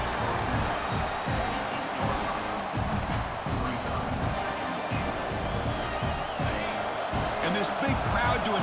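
A big stadium crowd roars in a College Football 25 game between Georgia and Tennessee during overtime near the goal line, a loud continuous swell of cheering with thumps, under steady play-by-play commentary.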